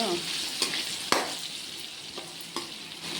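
Chili powder cooking in oil for a dried fish curry, a continuous close sizzle with a few brisk stirring strokes spaced out across the pan, no one talking.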